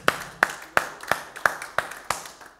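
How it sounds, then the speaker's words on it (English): A church congregation claps during an evening service, eight distinct, evenly spaced claps in a slow steady rhythm, sharp and moderately close with brief decays, and no voices over them. "Then give him a hand clap tonight."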